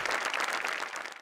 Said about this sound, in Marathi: गौऱ्यासाठी पण टाळ्या